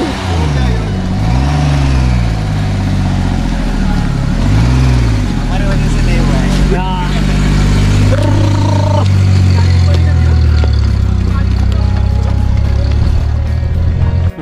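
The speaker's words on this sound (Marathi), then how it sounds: "गाडी चालू झाली आणि आम्ही परत लागलो आमचे गाणे गायला" A car's engine catches after a push start on a hill road on the way from Mumbai to a trekking base camp, then runs with rising revs that waver up and down. It stays loud and close, with voices mixed in.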